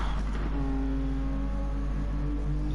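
Racing car engine in a racing video game at Bathurst, roaring steadily down the Conrod Straight at high, sustained revs, loud and continuous with a held harmonic drone.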